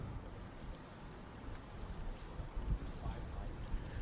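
Four-stroke Superjet jet skis race across the water, their engines a distant rumbling drone mixed with wind and splashing.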